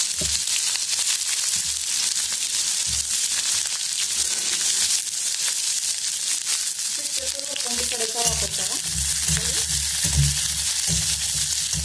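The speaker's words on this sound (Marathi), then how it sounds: "तेल गरम झाल्यानंतर आपण हे सगळं मिरची तळी टाकून घेणार" Green chilies fry in about two spoonfuls of hot oil on a medium gas flame for a raw mango and chili thecha, a steady close sizzle and crackle running throughout with faint bubbling pops in the second half.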